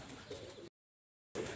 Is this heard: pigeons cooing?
yes